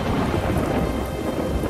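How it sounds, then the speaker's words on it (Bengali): A thunderclap rumbles through steady heavy rain in a Bengali village horror story, a deep sustained roll over dense hissing rainfall, loud and close, with no voices. "আরো একটা বাজ পড়ার শব্দে ওর সম্বিত ফিরল।"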